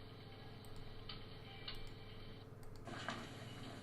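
A clock ticks in the video game Learning Ladder, a faint, steady, even tick-tock that repeats through the whole stretch against a quiet hum.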